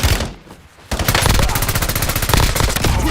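Loud, close machine gun fire in Warzone: a brief lull and then a sustained rapid automatic burst that keeps going to the end.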